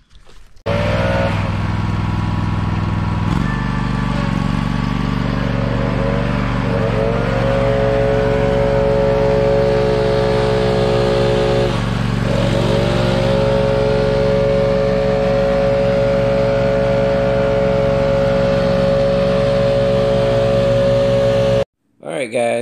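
A Stihl BR800 or Echo 8010 backpack leaf blower roars steadily and loudly up close for about twenty seconds, its pitch rising as the throttle opens, then it cuts off abruptly near the end.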